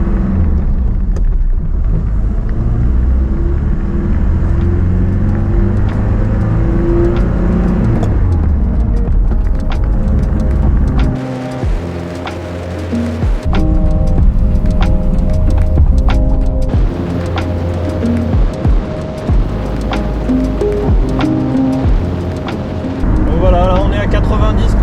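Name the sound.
Mercedes-Benz W108 240d diesel car driving, engine and wind noise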